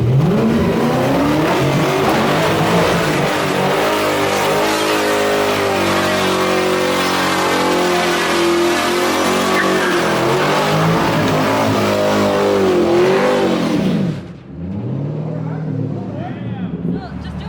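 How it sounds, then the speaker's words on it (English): A car with four catalytic converters and no muffler holds a loud, raspy high rev for many seconds before dropping off sharply to a lower idle, with people talking over it. "Can you just throw it a little quick rev real quick so I can see what it sounds like?"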